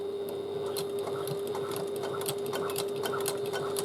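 Sewing machine topstitching along either side of an open seam on a bag, a steady fast mechanical whir with a constant hum and rapid needle ticks, running continuously at moderate volume.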